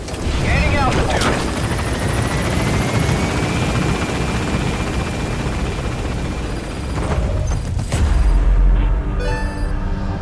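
An extraction helicopter in Metal Gear Solid V roars loud and close with a steady rotor wash, and a brief boom near the end.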